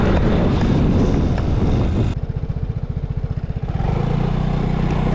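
A scooter ridden through a cornering drill accelerates out of a turn. Strong wind buffeting covers the first two seconds, then a rapid engine pulse rises steadily in pitch as the throttle opens, with no talking.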